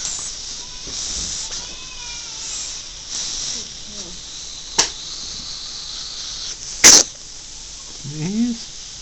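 A single sharp, close sneeze bursts out once amid quiet surroundings, with soft breathy hisses and other small noises before and after it.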